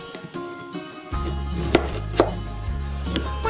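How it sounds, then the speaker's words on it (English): A knife slicing a lime into a wheel on a board, a few sharp cutting knocks over a background of music. "Slice your lime down to create a lime wheel."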